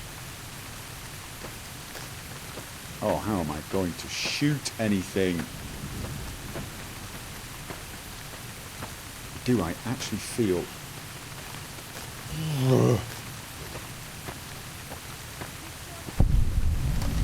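Steady rain hiss in the video game Fallout: New Vegas (Honest Hearts) runs throughout as a soft wash of noise, with bursts of speech over it and a low thump near the end.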